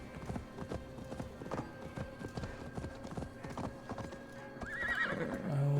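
Horse hooves clip-clop in a steady rhythm in the Viking-era game Assassin's Creed Valhalla, with a loud neigh rising near the end over a faint music and ambience bed.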